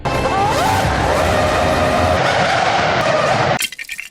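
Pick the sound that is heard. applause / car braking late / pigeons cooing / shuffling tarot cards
car braking late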